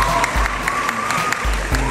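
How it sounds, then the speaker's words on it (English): A graduation audience claps for the teachers at a high school ceremony, dense sustained applause from a large crowd close by, rising again near the end. "keep the applause going"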